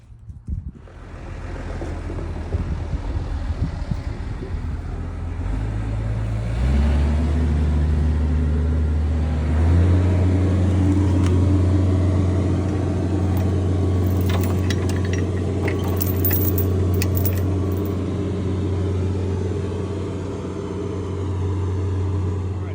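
John Deere 650 tractor starting up and pulling forward over a mower deck, its low diesel rumble rising and settling into a steady close drone, with some wind noise on the microphone.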